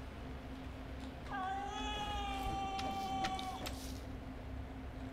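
A cat meows in a horror-themed crime scene cleaning video game, one drawn-out, wavering meow that rises and falls over steady background hum, fairly close and clear with no talk over it.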